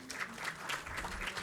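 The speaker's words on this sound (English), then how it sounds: "A round of applause for him, please." Audience applause at a Guru Utsava ceremony, steady dense clapping from a crowd sustained throughout at moderate loudness, with no talk over it.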